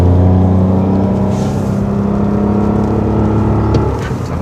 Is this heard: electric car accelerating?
yes